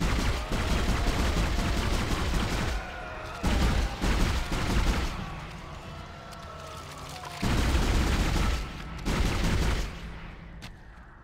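Bursts of heavy gunfire aimed at the player in the Dead Space video game, loud sustained volleys separated by short lulls, with booming impacts mixed in and no talking.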